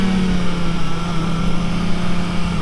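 A Kawasaki ZX-4RR motorcycle engine held at a steady 6,000 RPM, a loud, smooth, sustained high-pitched drone with no break in tone.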